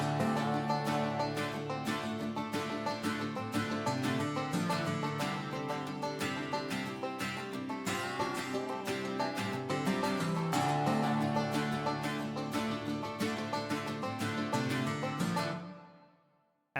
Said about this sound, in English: these strumming patterns and the strummer from Native Instruments all together